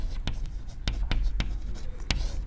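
Chalk or marker writing on a board during a physics lecture, heard as a series of short, sharp tapping strokes in an irregular rhythm over a quiet room, with no talk.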